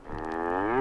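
A single cow moos in one long, rising, harmonic call that swells steadily louder, heard alone and close without any talk, from a bilingual Montreal children's television program.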